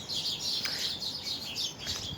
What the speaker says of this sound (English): birds, I love birds in the rain.